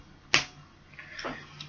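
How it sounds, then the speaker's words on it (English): Fingers snap once, crisp and close, along to the Addams Family theme, followed by two softer, fainter snaps in a loose rhythm against a quiet hiss. "you all want to clap, snap your fingers"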